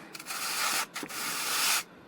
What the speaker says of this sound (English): make sure that you're sanding the whole of the surface all the way through like that